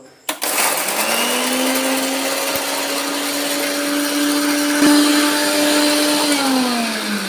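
Mixer grinder blending chillies in a home kitchen: a steady, loud motor whine that starts with a sharp click and runs continuously, its pitch holding level before dropping slightly near the end.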